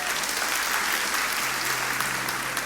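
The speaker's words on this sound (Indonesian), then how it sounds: "Kasih tepuk tangan untuk Tuhan." A large church congregation claps steadily and loudly during a sermon, a dense continuous wash of applause with no pauses.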